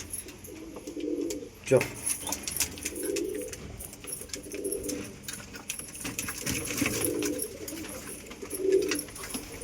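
Pigeons coo softly and repeatedly nearby, low rolling calls recurring throughout, with scattered clicks and light rustling.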